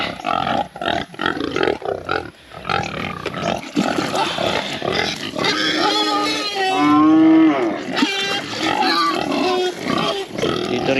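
Several drawn-out cow moos, one long and loud, sounding close by amid farmyard clatter and a few faint voices.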